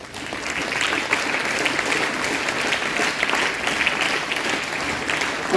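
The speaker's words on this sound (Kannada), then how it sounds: "ಸೊ ಅದಕ್ಕೆಲ್ಲವೂ ಕೂಡ ನಮ್ಮ ಆಡಳಿತ ಮಂಡಳಿಗೆ ಅವ್ರಿಗೂ ಕೂಡ ಒಮ್ಮೆ ಜೋರಾದ ಚಪ್ಪಾಳೆ" A seated audience at a school event gives loud, sustained applause for the school management, a dense even roar of many hands clapping close by, with no break and no speech over it.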